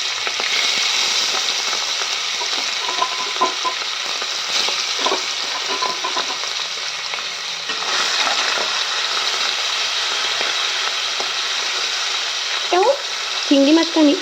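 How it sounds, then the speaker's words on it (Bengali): Prawns coated in turmeric and salt sizzle steadily in hot oil, a continuous close frying hiss with occasional stirring clatter and a brief louder burst near the end. "চিংড়ি মাছটা আমি 5 থেকে 7 মিনিটের মতন একটু ফ্রাই করে নেব।"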